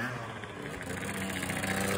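An MBK Booster scooter engine revs steadily with a buzzing, slightly rising tone for about two seconds, loud and close, with no talk over it.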